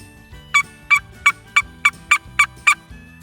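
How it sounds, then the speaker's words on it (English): A series of about eight sharp gobbles from wild turkeys rings out in quick succession, fairly close, over a low background rumble, in spring at Knoxville Wildlife Area. "I seen these turkeys crossing the road"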